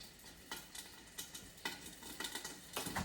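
Pan-fried veggie buns cooking in a pan, with a steady soft sizzle broken by repeated nearby scraping and clinking of a utensil against the pan; no voices.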